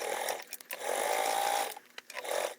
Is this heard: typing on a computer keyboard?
no